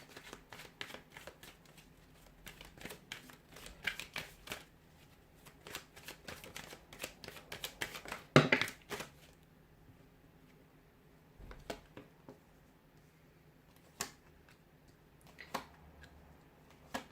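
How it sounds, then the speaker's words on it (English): Tarot cards being shuffled in repeated riffling bursts, crisp and close, with a few quiet pauses and scattered taps between shuffles; no talking. "we'll give the cards a shuffle"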